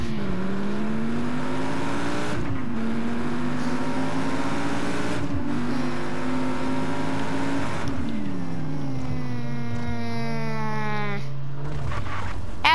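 Car engine in Just Cause 3 revving and speeding at very high speed, a loud steady whine that rises in pitch, drops with gear shifts, and climbs again, running continuously close up with no talking.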